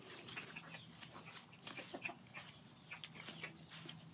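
Faint clucking from several baby chickens, soft scattered calls with light rustling in the background and no one talking.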